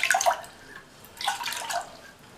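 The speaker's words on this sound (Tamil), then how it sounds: "ஃபஸ்ட்டு இந்த பாத்திரத்தில் 1/2 கப் தண்ணி சேர்த்துக்கலாம்." Half a cup of water is poured into a pot while making dough for kozhukattai, heard as two short, close splashing bursts separated by a brief quiet gap.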